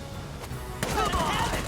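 Gunfire in the tactical game Valkyria Chronicles 4: a short burst of shots breaks out after a quieter moment and continues loudly to the end.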